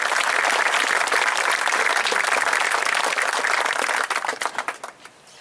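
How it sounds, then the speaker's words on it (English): Audience at a 2020 high school graduation gives a round of applause for National Honor Society students, full dense clapping that holds steady for about four seconds, then thins into scattered claps and fades out. "Please give our NHS students a round of applause."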